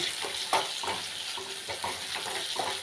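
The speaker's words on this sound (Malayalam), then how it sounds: "ഇത് നന്നായിട്ട് വഴറ്റിയെടുക്കുക" Mango pickle ingredients sauté in a hot pan, a steady sizzle with repeated scraping stir strokes roughly every half second, close and fairly loud, with no voices.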